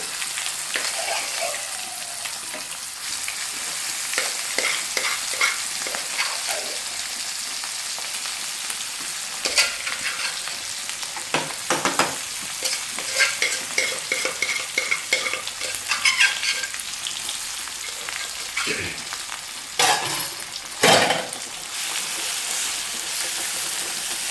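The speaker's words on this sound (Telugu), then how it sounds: "ఇప్పుడైతే మనం ఇందులోకి మనం ఉడకబెట్టుకున్న పప్పును అయితే అందులో వేసుకుందామండి. ఆయిల్లోని ఒకసారి ఫ్రై చేసుకుందాం ఇలా వేసుకొని" Boiled lentils stirred into hot oil tempering for an Andhra-style dry dal, producing continuous close sizzling with repeated spatula scrapes and clinks, no talk.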